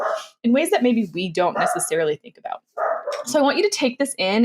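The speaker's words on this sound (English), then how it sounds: "sorry about the dog" A dog barks and yips in the background, partly masked by a person talking steadily in the foreground throughout.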